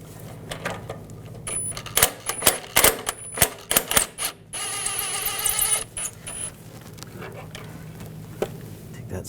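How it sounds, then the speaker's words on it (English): Socket wrench ratcheting out screws from the engine shield of a 2014-2018 GMC Sierra 5.3L V8, rapid clicking bursts and metallic rattles close by, followed by a sustained buzzing ratchet run. "Now I take a 10mm socket."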